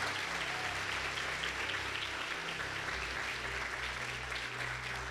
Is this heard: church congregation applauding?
yes